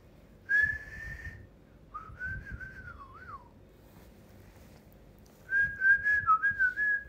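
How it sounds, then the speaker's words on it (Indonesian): A person whistles a tune in three short melodic phrases separated by pauses, clear and fairly close over quiet room noise, with no talking. "Can you whistle? Of course."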